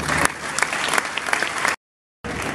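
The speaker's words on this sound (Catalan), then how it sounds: "demano, de forma unànime, un gran aplaudiment" A crowd at the Sant Joan i Sant Pere festival proclamation in Vinaròs breaks into sustained applause, dense and loud. It cuts to brief silence, then the clapping resumes.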